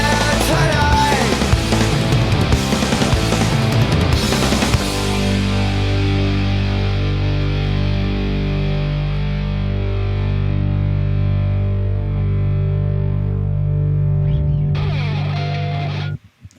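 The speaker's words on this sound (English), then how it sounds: "the microphone here is actually picking up the strum of the guitar" Heavily distorted electric guitar from a Billy Martin 20th Anniversary guitar: dense, loud chords ring out for several seconds, then a sustained chord decays for a long stretch before a brief scrape of strumming at the end.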